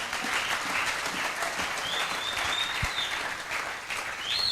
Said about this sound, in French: Acclame bien pour la gloire du Seigneur.